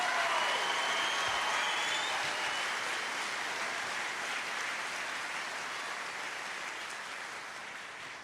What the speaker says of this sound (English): give Class 222 one more round of applause